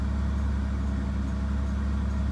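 A Ford Sport Trac engine idles smoothly at about 1300 RPM. A steady low rumble holds close and constant throughout, with no talk over it.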